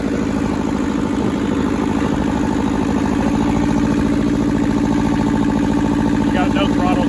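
A rusty Hinomoto tractor engine with a leaking radiator and no throttle control runs at a steady, loud idle, its low rhythmic chugging continuous throughout.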